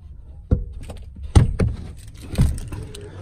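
Rear door of a base-model 2014 Ford Ranger XL Highrider opening, with a sharp latch clunk followed by a few thuds and rattles from the door and cabin, close and moderately loud with no talking.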